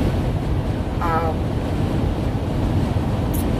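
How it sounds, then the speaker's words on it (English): Steady, loud rushing wind buffeting a moving vehicle, a constant low roar with no pauses. "I'm sure you can hear the wind on the outside of the car as I'm driving."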